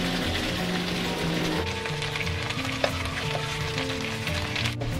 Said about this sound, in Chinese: 平底锅里面来一点油，然后把这个香芋卷放上去，保持中小火煎